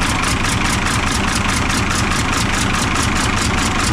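A truck engine idles while warming up, giving a steady, close, loud diesel-like rumble with an even, pulsing knock and no talk.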